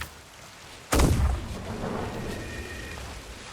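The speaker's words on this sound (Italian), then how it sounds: "Chi gli ha sparato? Ah, sta sparando Dall'isola." A single loud cannon blast fired from an island in Sea of Thieves, a sharp booming report followed by a long rumbling decay, heard alone.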